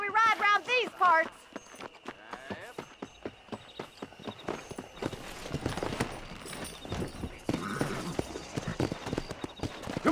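Horse hooves in the Red Dead Redemption video game, a rapid clip-clop of riding that runs steadily and fairly close from start to finish, mixed with game music and brief talk near the start.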